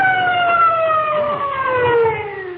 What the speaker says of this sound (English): I can still hear them sirens.